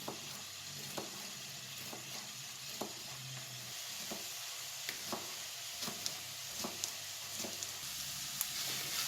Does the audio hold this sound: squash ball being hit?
no